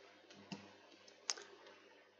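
A quiet computer mouse clicks while working in FreeCAD, with a soft click early on and a sharper, clearer click a moment later, and faint low background hum.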